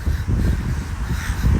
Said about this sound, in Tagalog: Yun, may uwak.